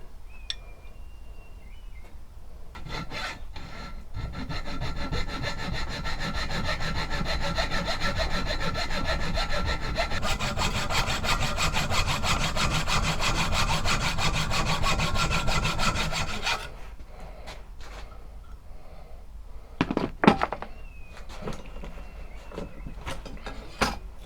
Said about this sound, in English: So now I need to cut away this part and this part